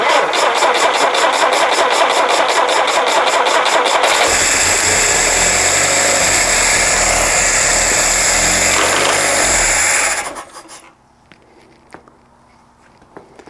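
Jeep CJ5 engine on its first start after a rebuild, fed with starter fluid: rapid cranking, then a loud, rough, uneven firing run for several seconds before it cuts out abruptly into quiet rustling.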